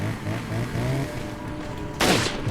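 Gunfire from the video game Resident Evil 4, a loud sharp blast bursting out near the end over a dense, steady rumble of game noise.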